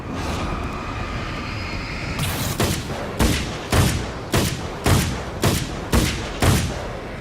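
Gunfire in the video game Alan Wake's American Nightmare: a loud rushing burst gives way to a rapid series of sharp, evenly spaced shots, about eight blasts close together with no talking.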